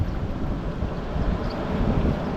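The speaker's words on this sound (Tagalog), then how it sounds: "Taas ng hangin." Strong wind buffeting outdoors at a river mouth, a dense low rumbling roar that presses steadily on the microphone throughout, with no voices.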